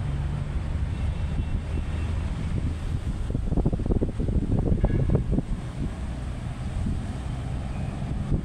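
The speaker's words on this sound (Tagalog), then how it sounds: "Sarap ng simoy ng hangin." A steady breeze at Manila Bay buffets the microphone with continuous low rumbling wind noise that swells in the middle and then eases, with no voices.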